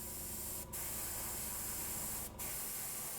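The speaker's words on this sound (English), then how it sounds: "Let me do some red spraying" Red spray paint hissing from a can in a long, steady, close spray, cut by two brief pauses before resuming, with no voices.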